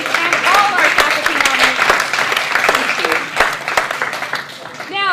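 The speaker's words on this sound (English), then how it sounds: "And one more round of applause for our Charger Award recipients and all our faculty" At an academic senate meeting, an audience applauds award recipients and faculty, with sharp individual claps rising into a lively round while voices and a few cheers call out over it.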